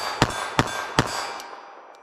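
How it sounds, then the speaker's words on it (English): A .380 ACP pistol is fired at a target. Three sharp, loud reports come in quick, even succession, then a fainter fourth, each ringing briefly with a metallic clang, with no talking. "So here's our 380 ACP."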